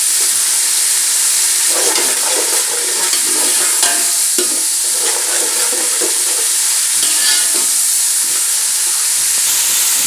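Masala with green chillies and salt fries loudly in a pan for biryani, a constant close sizzle and hiss broken by scraping stirs of a spoon, with no talking.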